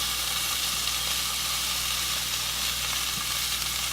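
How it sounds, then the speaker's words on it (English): Large mushrooms sizzle steadily in a frying pan, a constant close, even frying hiss with no break. "those mushrooms are still sweating out a bit"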